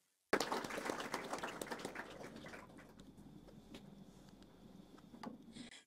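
Group applause at a Bangladeshi group meditation gathering, a burst of clapping that is loudest at the start and gradually thins and fades, with a few scattered claps near the end.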